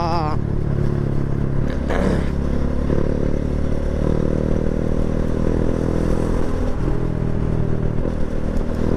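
A motorcycle engine runs steadily close by in traffic, a continuous droning hum with occasional clattering and a slight rev, while someone talks over it.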